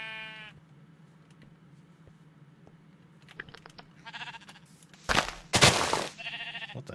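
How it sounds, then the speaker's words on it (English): Sheep bleating inside the video game Welcome to SLAPtopia, a short harmonic bleat at the start, then scattered game noises and louder bursts of sound near the end, with no talk. "You got any more sheep around here? I heard one."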